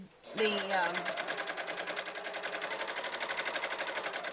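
A sewing machine stitching a fabric strip for holding D-rings, starting up and then running in a fast, steady, close rattle throughout, with a brief voice at the start.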